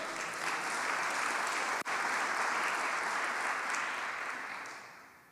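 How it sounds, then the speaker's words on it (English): Steady audience applause at a public talk on place and health equity, fairly faint and distant. It holds at an even density for about five seconds with one brief dip, then tapers off at the end. "So give yourselves a round of applause as well."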